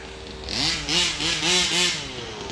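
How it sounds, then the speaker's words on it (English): The small gas engine of a Rovan 5B Baja 1/5 scale RC car revs in several quick, rising pulses, buzzy and fairly close, settling back to a steady idle between bursts. "it has like actual like motor noise instead of this electric motor noises"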